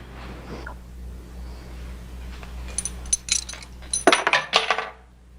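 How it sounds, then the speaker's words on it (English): Metal keys dropped onto a hard surface in a sheriff's office, landing as a bright cluster of jangling clinks and rattles near the end, close and fairly loud over a low room hum. "I believe you dropped your keys."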